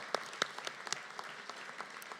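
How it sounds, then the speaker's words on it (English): Audience at an evening fundraising event gives a round of applause for the sponsors, steady clapping with a few sharper claps standing out at moderate distance and no talk over it. "let's go ahead and give one more round of applause for all of those sponsors"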